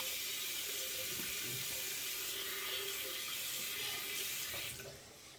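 Steady broadband rush of water from a sink tap during face washing in a shaving routine, running continuously and fairly close, then dropping off abruptly near the end.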